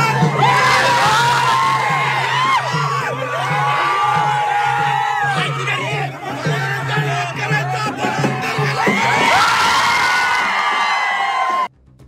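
Loud, dense crowd of cheering, whooping and shouting voices celebrating an uncontested municipal council election result in Angar, Mohol taluka, Solapur, sustained throughout with swelling bursts before cutting off abruptly.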